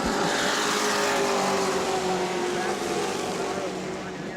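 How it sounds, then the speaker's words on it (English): Stock cars race at New Smyrna Speedway, a dense, loud roar of engines sweeping past close by and fading slightly toward the end, with faint voices underneath. "Now we're getting some racing out of these cars."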